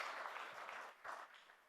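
Audience applause at the inaugural session of a tax congress, a soft, distant patter of clapping from a hall full of delegates that briefly dips and swells again.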